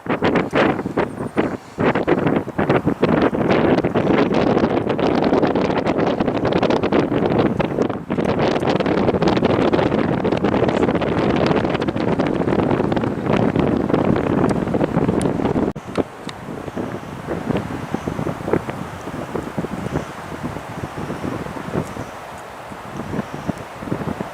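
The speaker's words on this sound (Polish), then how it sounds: "bo naprawdę jest zimno, przeszywający wiatr" Strong, piercing cold wind buffets the microphone on an early March afternoon at Szczytnik, a loud continuous roar with gusty rustling that holds for about sixteen seconds, then drops to a lighter, steadier blow.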